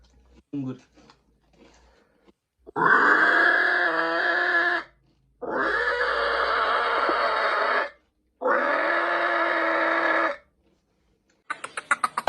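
A man imitates a pig with his voice, giving three long, loud grunting, moaning calls of a few seconds each, separated by short pauses, close to the microphone and alone.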